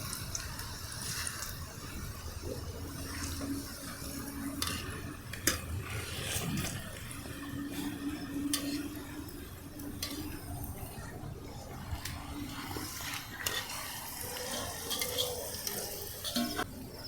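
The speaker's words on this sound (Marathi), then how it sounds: "खूप छान अशी झारणीमधून बुंदी तयार होत आहे" Boondi batter made from gram flour drips through a slotted spoon into hot oil and fries with a steady, soft sizzle, broken by light metal clinks and scraping of the spoon against the pan.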